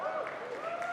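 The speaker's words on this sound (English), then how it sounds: "Not as strong applause as I would have hoped for that" Audience at a Star Wars convention panel gives a brief, steady patter of applause, moderately loud and filling the whole second without pause.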